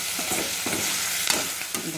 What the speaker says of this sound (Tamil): மீடியம் ஃப்ளேம்லேயே வச்சுக்கணும். எல்லாம் ஒன்றா சேர்த்து நல்லா வதக்கணும்.